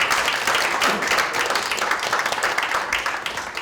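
Audience applause fills a forum on the Korean Peninsula's new economic map, dense steady clapping from a large crowd sustained evenly throughout.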